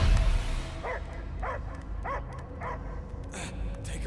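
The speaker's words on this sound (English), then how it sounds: "I hear only barking." A dog-like creature in the Guardians of the Galaxy video game barks in a run of about five evenly spaced, mid-loud barks over a low rumbling ambient bed.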